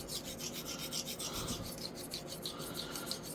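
A straight razor making quick half strokes across a La-lune hone, a soft, continuous rasping scrape in even repeated passes, close and quiet with no talking.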